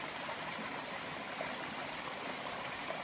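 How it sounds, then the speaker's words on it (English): A stream along the Appalachian Trail runs steadily, its broad hiss of water flowing continuously and evenly up close, with no talking over it. "A little bit of running water."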